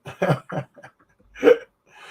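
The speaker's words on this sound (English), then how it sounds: "Ooh, I got hiccups." A few short hiccups from a person in the middle of a casual chat, quick close gasping bursts with a louder one after a short pause.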